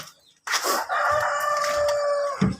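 A rooster crows loudly and at length on a backyard chicken farm where baby chicks are raised, one long drawn-out cock-a-doodle-doo with clucking at its start and end.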